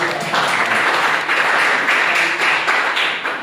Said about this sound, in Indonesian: Ya, aplaus buat Pacitan